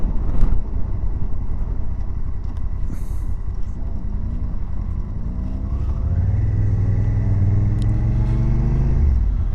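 A motorcycle with a sidecar passes on a country road near a rally campsite, its engine note rising as it approaches and rumbling steadily past over a low background of road and wind noise.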